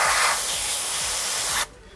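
An Iwata airbrush fitted with a custom grip handle sprays primer in a steady, loud hiss with faint pulsing underneath, cutting off abruptly near the end.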